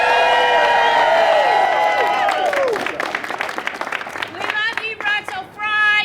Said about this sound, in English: We got a rowdy crowd here in the independent republic.